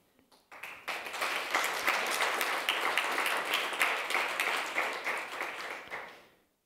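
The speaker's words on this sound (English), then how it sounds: "How about we start with an applause for this session?" An audience at a European employment and social rights forum session bursts into applause, a dense, steady clapping that rises quickly, holds for about five seconds and fades out.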